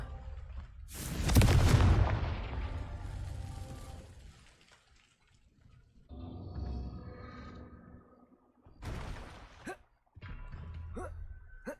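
The Confringo spell in Hogwarts Legacy sets off a sudden booming blast that rumbles away. Quieter crackling effects follow, then a few short sharp bursts.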